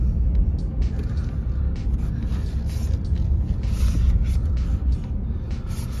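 Volkswagen Tiguan driving over a bumpy road, a steady low rumble of tyres and suspension from inside the cabin with faint knocks, continuous and fairly loud throughout.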